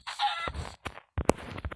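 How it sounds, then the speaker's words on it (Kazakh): Minecraft chicken clucking, short separate squawky bursts of clucks in a quick uneven sequence, with gaps of silence between them, close and fairly clear. "мына тауықты өлтіріп салайық."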